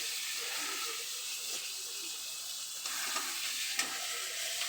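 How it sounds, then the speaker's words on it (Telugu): Raw banana pieces sizzle steadily in a frying pan for a Telangana-style fry, a continuous close hiss with a few stirring clicks and scrapes near the end. "అరటికాయలు వేసి ఇంకా ఫ్రై చేయాలి."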